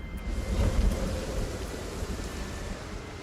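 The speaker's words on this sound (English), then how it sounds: "God, not a fan of the rain" Steady rain in the Project Zomboid video game, a continuous broadband wash of falling water with a low rumbling undertone, constant and moderately loud throughout with no voices.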